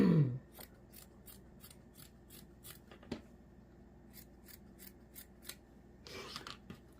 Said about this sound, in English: let me cut a strip and then I will show you quick